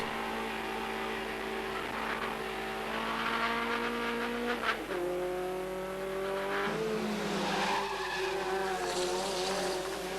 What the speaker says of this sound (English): But Robin isn't closing too quickly on the Escort